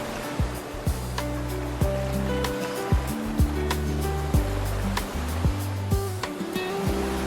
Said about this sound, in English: watch powerful waves crash directly into the bridge system, especially during rough weather